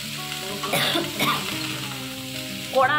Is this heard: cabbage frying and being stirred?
yes